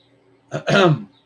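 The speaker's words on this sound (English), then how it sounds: "So clear my throat." A single close, loud throat clearing: a short rasp followed by a longer gravelly hack, then quiet.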